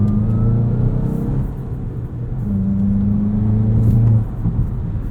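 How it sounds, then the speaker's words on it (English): A 2022 Volkswagen Jetta GLI Autobahn sports sedan engine with a six-speed manual revs in a steady, low droning hum that swells and eases slightly, heard close up with no voices. "You rev this out, you get into the higher RPMs"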